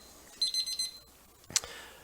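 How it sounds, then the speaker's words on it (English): A small temperature probe set to 165 degrees, dipped in near-boiling water, sounds its alarm as a quick burst of several high, thin beeps, followed by a brief click and then quiet. "I have this little device right here that's set at 165, and when it is put into water, if it's hotter than that, of course the alarm will go off"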